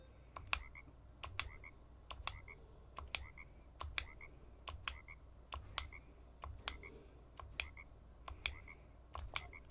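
Short croaks from a frog in a video game animal race, repeated at a steady pace over a low background loop, mixed with sharp clicks like button presses.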